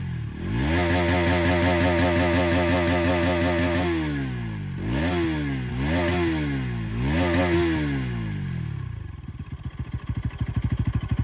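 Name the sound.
Bajaj Pulsar NS200 motorcycle engine revving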